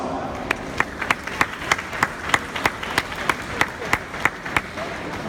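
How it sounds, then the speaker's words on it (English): A small audience at an Arabian mare breaking-in demonstration claps in a quick, even rhythm, crisp individual claps standing out over a low background murmur. "Big round of applause."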